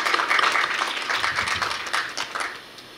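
A crowd claps to welcome a newly introduced graduate student at a university entrance ceremony, steady applause that fades away after a couple of seconds.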